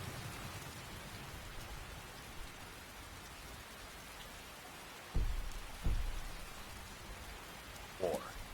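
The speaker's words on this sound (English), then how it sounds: "that thunder and lightning is a little too loud" Steady rain falls during a thunderstorm in the game Skyrim, a constant hiss of downpour broken by a few sudden low thunder cracks, with a voice speaking faintly in places.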